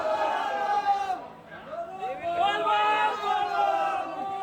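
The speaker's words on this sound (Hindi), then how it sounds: "कांवड़ियों की भारी भीड़ देखी जा रही है।" A large crowd of kanwariya pilgrims chatters at a busy roadside market in Muzaffarpur, a dense, steady babble of many voices with occasional shouts and whoops, close and continuous.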